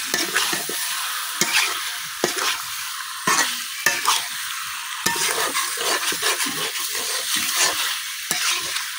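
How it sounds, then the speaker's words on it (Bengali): Chicken and taro with spices being stirred in a hot pan, giving a steady oily sizzle broken by repeated scraping strokes of a spoon at close range, with no talk. "কচুর সাথে মাংসটা খুব সুন্দরভাবে মিশাই দিলাম।"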